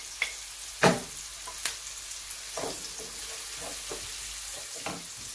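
Rosemary sizzling in a frying pan with courgettes, garlic and spring onions, a faint steady frying crackle broken by a few sharp clicks and stirring knocks, close and quiet with no voices.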